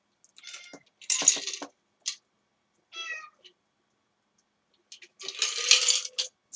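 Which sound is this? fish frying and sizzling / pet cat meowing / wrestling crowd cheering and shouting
pet cat meowing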